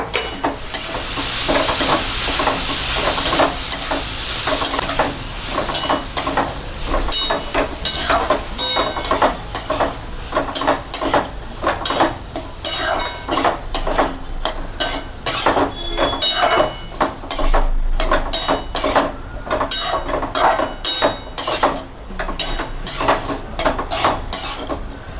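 Spoon stirring Maharashtrian potato bhaji in a pan, scraping and clinking against the metal in a steady, rapid rhythm over a continuous soft sizzle, close and alone for the whole stretch.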